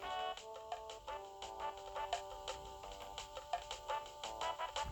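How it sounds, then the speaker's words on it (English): Earthbound video game chime when a sanctuary location is reached, a soft, quiet melodic jingle of bright repeated tones over low background game noise. "That's the sound of when your sanctuary location goes through."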